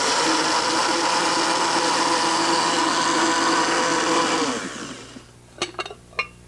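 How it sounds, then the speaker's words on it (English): A blender with its lost lid replaced by a blue plate whirs loudly with fruit inside, a dense roaring grind that winds down after about four seconds, followed by a few sharp clinks and knocks. "it into the blender, and then we're going to have to place this blue plate over top of the blender"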